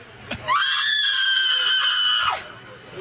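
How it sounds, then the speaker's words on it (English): A woman screams loudly in a played recording, one sustained, piercing high-pitched cry lasting about two seconds before cutting off. "So I can listen to this screaming all day."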